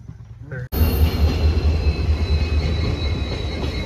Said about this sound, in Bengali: ট্রেন আইতেছে দেখ।